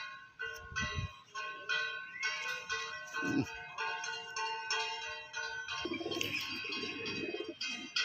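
Pigeons of the Madras line coo in a loft of birds kept for sale, low burbling coos rising in two or three bursts over a steady bed of chirps and bird chatter.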